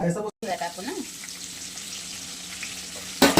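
Garlic dropped into hot oil for making corn chivda sizzles and fries steadily, a close, soft crackling hiss that carries on under brief speech, with a louder burst of sizzle near the end.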